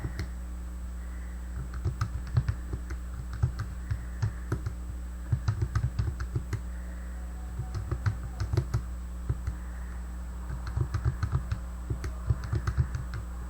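Keys pressed one after another on a graphing calculator while entering the entries of a 3 by 3 matrix, giving irregular bursts of close, crisp plastic clicks with short pauses between them, with no one talking.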